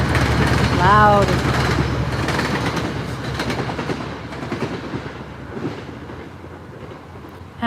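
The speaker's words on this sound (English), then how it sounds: "why are there so many trains right now?" A train passes nearby with loud rumbling and clattering wheels that slowly fade over several seconds, while a voice talks over the noise.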